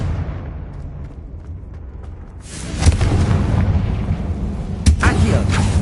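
A Confringo fire spell blasts in Hogwarts Legacy on PS5, a heavy booming burst near the three-second mark, with a second sharp impact toward the end, over a low rumbling game soundscape.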